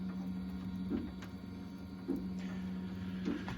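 A quiet one-metre-tall H-Bot 3D printer hums steadily, with soft mechanical whirring bursts recurring about once a second; no voices.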